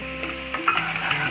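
Potatoes and green onion sautéing in a pan for a Gujarati-style potato curry, a soft steady sizzle with a brief stirring scrape in the middle, faint and close.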